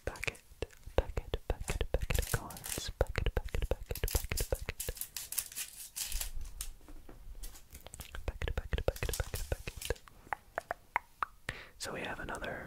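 Crinkly plastic wrapper of a Club Penguin trading card pack is torn and crumpled up close in a quiet setting, a dense run of sharp rips and crackles with brief pauses and soft whispering now and then.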